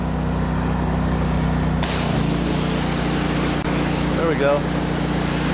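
A pressure washer wand spraying water, a loud steady hiss over a low engine drone that suddenly widens and intensifies partway through, with someone briefly speaking.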